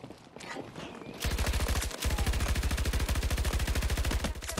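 Rapid automatic gunfire in a Battlefield 2042 gunfight, a loud sustained burst of evenly spaced shots running almost nonstop after a short quieter lead-in, with scattered shots and movement noise at the start.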